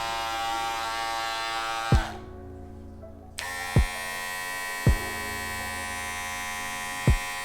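Andis Masters electric hair clipper running with a loud steady buzzing hum, switched off briefly into near silence and then on again, with several sharp clicks or knocks over the drone and no talk.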